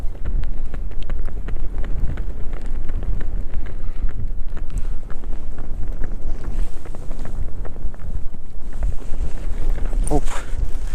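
Strong wind buffets the microphone at a lake fishing spot, a loud continuous low rumble with gusting roar throughout, a voice faintly speaking beneath it.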